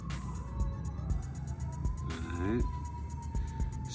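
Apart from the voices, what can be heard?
sirens outside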